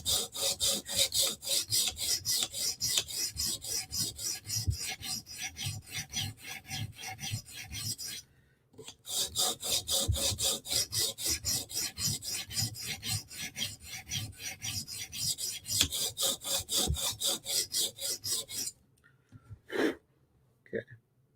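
A Spyderco knife blade is sharpened on a stone with steady, rhythmic rasping strokes, close and continuous, with a brief pause midway and a soft breath or sigh near the end.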